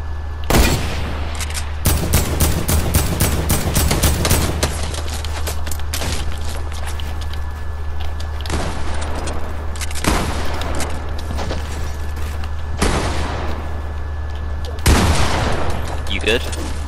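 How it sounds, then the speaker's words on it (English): Loud gunfire from the player's own weapon in a shooter video game comes in bursts: a rapid string of shots early on, then separate single cracks spaced out, over a steady low hum. "that was me shooting, just in case"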